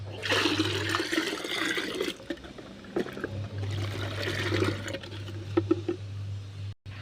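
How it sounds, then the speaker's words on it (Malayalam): Water pours and splashes steadily with a low hum underneath, pausing briefly midway before flowing again. "പച്ചവെള്ളം കൂടി ഒഴിക്കുക ഇതും ഒരു ലിറ്റർ"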